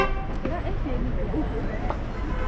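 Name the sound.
car horns honking in Amman traffic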